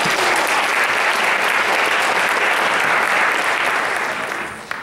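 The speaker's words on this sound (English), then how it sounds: "let's give them a round of applause for that" A theater audience applauds a children's musical performance by Camp Carnegie All-Stars, sustained loud clapping throughout that tapers slightly near the end.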